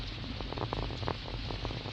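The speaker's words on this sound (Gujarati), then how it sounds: "જુઓ વરસાદ જુઓ દોસ્તો વરસાદ ફૂલ ચાલુ છે" Heavy rain drums on a car driving along a highway, a dense, even patter over a low road rumble that holds steady throughout.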